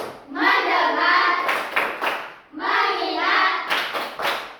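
Schoolchildren chanting in unison in a classroom, with short bursts of rhythmic group clapping falling between their chanted phrases in a concentration clap routine.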